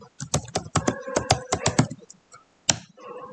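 Rapid bursts of keystrokes on a computer keyboard, a quick run of close, crisp clicks followed by a pause and a couple of isolated taps.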